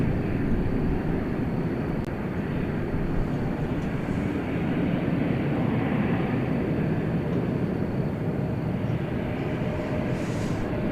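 Qantas Flight 8, an airliner bound for Sydney at DFW airport, gives a steady, broad engine rumble and roar heard from a distance, holding evenly for about eleven seconds with no voices over it.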